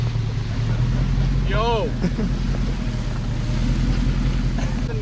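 A supercharged manual Lexus GS400 spins in snow, its engine droning steadily with a brief tire whine, close and continuous, while people talk and one shouts.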